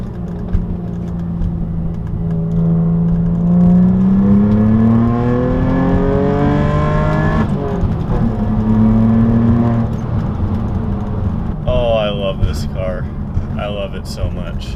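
Saab 9-3 Turbo X with 175,000 miles pulling hard, its engine note climbing steadily through a long gear then dropping at a shift before rising again under cabin noise, with someone talking over it.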